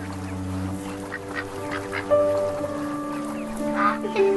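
Ducks in That Dragon, Cancer quack and cluck repeatedly up close among a chorus of bird calls, with a steady musical drone underneath and voices talking over them.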